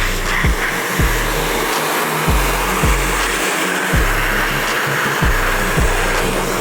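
A heat gun blows steadily on a 2024 KTM 300 XCW graphics sticker, a constant loud whooshing hiss broken by regular low thumps roughly every half second.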